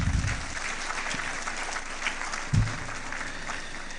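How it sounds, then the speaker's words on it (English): At a commemorative lecture, an audience gives sustained applause, a dense even roar of clapping throughout, with a couple of low thumps standing out briefly. "another round of applause for him"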